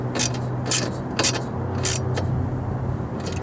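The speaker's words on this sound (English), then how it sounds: "we got these 10 millimeter bolts in here now, and we're just gonna tighten them down" Tightening 10 mm bolts on the suspension of an Integra with a ratchet, giving several short bursts of clicking a few seconds apart over a steady low hum.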